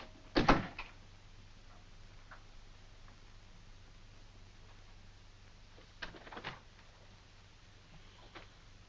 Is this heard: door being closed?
yes